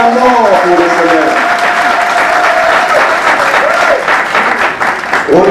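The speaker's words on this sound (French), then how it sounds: "Acclamons pour le Seigneur." An audience at a book signing applauds loudly and continuously, close by, with voices raised among the clapping.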